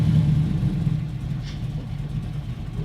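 A 1968 Chevrolet Camaro with a Flowmaster exhaust drives along, its engine giving a steady low rumble from inside the car with no talking.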